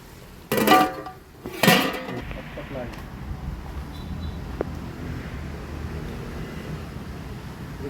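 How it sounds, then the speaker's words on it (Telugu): A lid goes onto a cooking pot while chicken pulao is being made, giving two sharp metallic clanks about a second apart, then a low, quieter kitchen background. "నాన్న మూత పెట్టు మూత పెట్టు"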